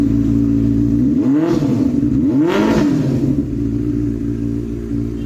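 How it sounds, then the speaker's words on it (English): A used roadster motorcycle fitted with an aftermarket exhaust revs twice, two rising and falling blips over a loud, close, rumbling idle that settles toward the end. "This is the aftermarket exhaust roadster."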